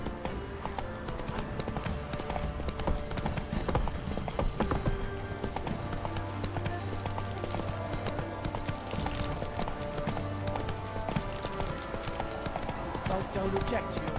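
Horse hooves clop rhythmically at a run in The Witcher 3, a steady close clatter that continues throughout beneath a game music score, with voices talking over parts of it.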